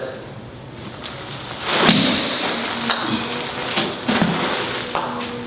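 A couple of golf shots struck with a TaylorMade 56-degree wedge, each a crisp swish-and-contact snap, heard close over faint outdoor background noise.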